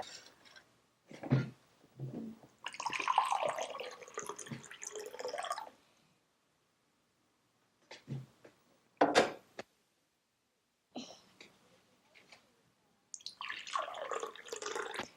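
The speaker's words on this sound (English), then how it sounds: "show the child how to pour water" Water is poured from a small pitcher in a home setting, coming as several separate splashy trickles and drips broken by short silences. The sound is close and quiet, with no talking.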